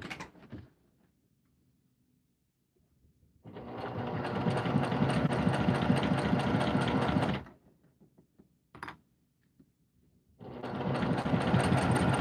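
A sewing machine stitches vinyl and fabric for a project bag in two long, steady whirring runs separated by quiet pauses and a brief mechanical clunk, loud and close with no talking.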